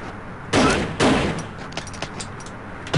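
Two loud, sharp gunshots ring out close together in the Fighting Force beat-'em-up, followed by scattered softer impacts and clatter from the street brawl.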